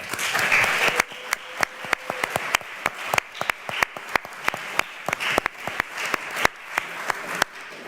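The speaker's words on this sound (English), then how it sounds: "everyone deserves another round of applause" A crowd applauds, dense clapping filling the space with a few louder individual claps standing out, fairly close and sustained throughout.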